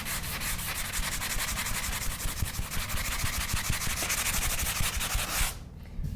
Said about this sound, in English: When I sand, I like to sand around this outer edge and feather that into the wall first.